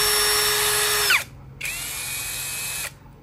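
A cordless brushless drill spins at its lowest speed setting with a steady high whine, stops briefly, then spins up again and runs at a slightly different pitch before cutting off, loud and close, no talking.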